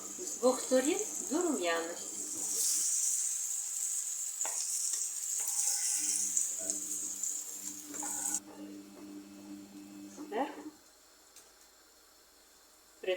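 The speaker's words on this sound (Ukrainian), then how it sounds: "Даємо олії на сковорідку, вона гріється, кабачок. Вмочуємо муці і кладемо. Жаримо кабачок." Flour-dipped zucchini slices sizzle in hot oil in a frying pan, a bright continuous crackle with someone speaking over it, then quieter frying with occasional clatter and brief pauses.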